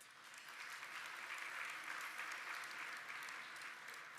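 Steady, even applause from an audience at a business talk on labour in Halifax, a dense wash of many hands clapping throughout, heard alone at moderate distance.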